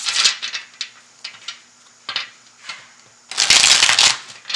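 Tarot cards shuffled in bursts of crisp riffling and slapping, with short pauses between handfuls and a longer, denser shuffle near the end, close and fairly loud with no talking.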